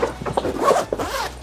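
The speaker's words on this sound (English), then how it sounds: "we do have the zipper option for you to zip it up" A zipper being drawn along a compartment of a Coolife two-piece luggage set, loud and close, in several quick rasping pulls with brief pauses between.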